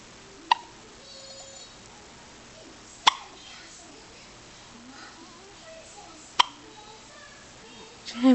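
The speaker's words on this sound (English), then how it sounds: "Do you have the hiccups?" A young child hiccups three times, each a short sharp catch spaced a few seconds apart over quiet room tone, ending with a faint rustle.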